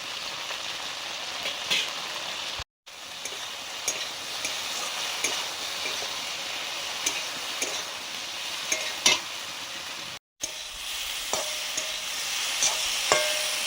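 Okra frying with green chilli and chilli powder in a pan, stirred steadily: a continuous bright sizzle with occasional scrapes and clinks of a spoon, two brief gaps of silence.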